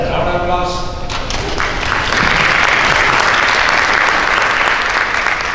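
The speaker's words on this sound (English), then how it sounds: "Round of applause" Applause from a conference audience starts under a brief spoken voice, then swells into steady, loud clapping that holds to the end.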